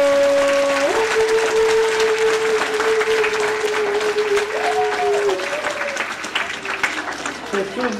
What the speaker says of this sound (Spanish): ¡Más fuerte ese aplauso!